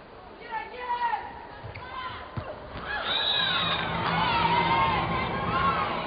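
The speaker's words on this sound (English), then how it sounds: "They always get a cheer when they sneak out there into the stands" Spectators in the stands at a women's international volleyball match between Poland and Kazakhstan cheer and shout, a crowd roar swelling louder and more sustained in the second half, with high voices and whoops over a constant arena murmur.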